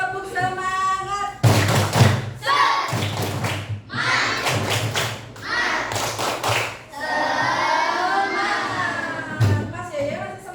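Children in a fourth-grade classroom perform the rhythmic 'tepuk semangat' clapping chant, bursts of loud group claps and thumps alternating with chanted voices over about ten seconds.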